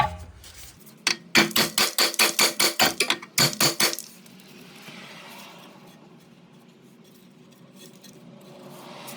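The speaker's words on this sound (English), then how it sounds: "so we can hit it with a hammer." About a dozen sharp metallic hammer blows strike a Hyundai Santa Fe lower ball joint stud in quick succession, close and loud, then give way to quiet background noise.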